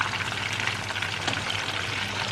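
Chicken karaage frying in hot oil, a dense continuous close sizzle that holds steady without pauses.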